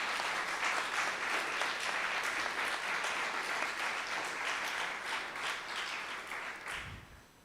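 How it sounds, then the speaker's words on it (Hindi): Audience applause at an Avatar Meher Baba centre program in Pune, a dense sustained clapping from a crowd that holds steady for about seven seconds before thinning and fading out. "इसके लिए हमें उनका तालियां बजाकर धन्यवाद करना"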